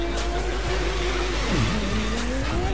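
Car tyres skid and squeal under a handbrake turn in the racing game The Crew 2, with a steady engine drone running throughout and a sharp pitch swoop in the middle.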